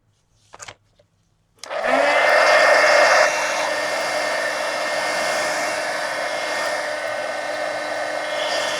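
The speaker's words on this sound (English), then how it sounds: "let me go ahead and throw some heat gun on this" A heat gun blows over a coloring page with a blue wash. After a few soft taps it switches on and gives a loud, steady whirring roar that drops slightly in level and then runs on evenly.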